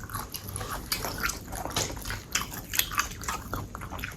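Close, crunchy chewing and biting of a spicy Thai salad of pork sausage and fresh shrimp, with wet crisp bites repeating steadily and no talking.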